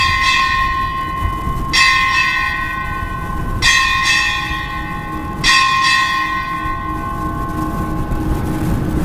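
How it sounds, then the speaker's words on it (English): A ship's bell struck eight bells at a US Indo-Pacific Command change-of-command ceremony, ringing out in loud paired clangs with a long metallic ring sustaining between the strikes. "Strike 8 bells."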